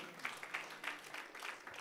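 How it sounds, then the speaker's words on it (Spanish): A church congregation clapping as an offering of applause to the Lord, faint and somewhat distant, with loose rhythmic claps spread across a couple of seconds. "¿Cuánto una ofrenda de palmas al Señor?"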